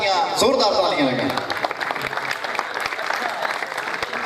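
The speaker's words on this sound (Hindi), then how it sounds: "जोरदार तालियां लगे।" An audience claps loudly at a poetry gathering, dense applause holding steady over several seconds while voices call out and mix into the crowd noise.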